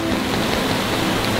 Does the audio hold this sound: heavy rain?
yes